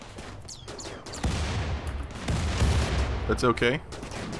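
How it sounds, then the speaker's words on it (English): Gunfire and rocket-launcher blasts from the video game RimWorld, with a rumbling cluster of shots and booms in the middle, while someone talks over the top. "He shot his rocket launcher at that instead of everything else."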